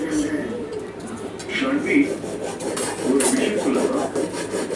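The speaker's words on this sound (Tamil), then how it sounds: "இதே அளவுக்கு இந்த அட்டைப்பட்டியும் வேஸ்ட் அட்டைப்பட்டியை அது அளவு பார்த்து கட் பண்ணிக்கலாம்" Waste cardboard is being cut, giving a steady rough scraping and rasping close by, with a voice talking over it the whole time.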